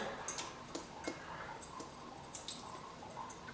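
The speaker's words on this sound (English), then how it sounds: "you can already hear the liquid dripping off into that little bowl that we placed in the bottom of the pan." Strained mushroom ketchup drips through butter muslin into a small bowl set in a pan, a quiet uneven patter of separate drips and soft ticks, close and faint, with no voices.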